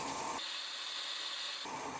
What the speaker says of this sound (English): Maybe I'll power sand it.